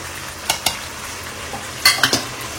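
Turmeric powder drops into hot oil and spices in an AGARO nonstick kadai over low flame, a soft steady sizzle broken by a few sharp scraping stirs near the end.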